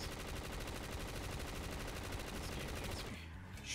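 Continuous rapid gunfire in a Call of Duty Black Ops 3 zombies map, a dense loud barrage running steadily before cutting off near the end, with faint game sounds beneath.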